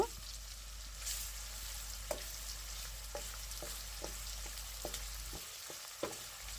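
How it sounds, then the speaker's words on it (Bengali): Chopped onions fry lightly in a pan for chicken curry, a soft, even sizzle with scattered stirring taps and scrapes, quiet and close, and no talking. "এখন দিয়ে দিচ্ছি পেঁয়াজ কুচি। পেঁয়াজটা হালকা ভেজে নেব।"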